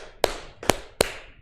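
Three sharp hand claps from a group in a classroom teaching session, evenly spaced and counted off one by one, each a crisp burst fading quickly into a quiet room.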